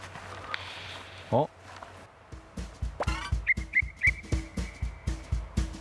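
Short, shrill whistle blasts sound several times on a countryside farm over steady thumping footsteps, with a few scattered clatters early on.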